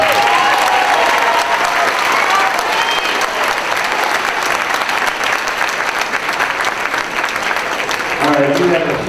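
Sustained applause from a graduation audience at an elementary school fifth-grade farewell, a dense steady wash of many hands clapping throughout, with some crowd voices mixed in.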